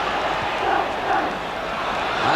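A football crowd at an FA Cup fourth-round match between Chelsea and Manchester City sings in unison, a dense, sustained wall of voices that swells and dips, heard from within the stands.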